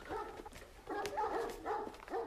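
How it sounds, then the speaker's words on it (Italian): Dogs vocalise in a short run of yelps and whiny, rising-and-falling cries, in two or three bursts over a couple of seconds, moderately close, with no talk over them. "Tu chiudi i cani."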